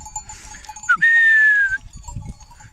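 A goat or sheep from a flock cries out in a single clear, drawn-out bleat that stands out from the soft shuffling and low sounds of the animals.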